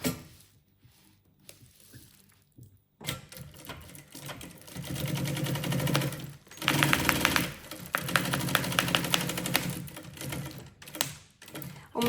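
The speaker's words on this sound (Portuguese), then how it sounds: "E vamos passar uma costura em toda a volta." A sewing machine stitches around the edge of a lunch bag, its rapid needle clatter running in close, loud bursts with short stops between runs.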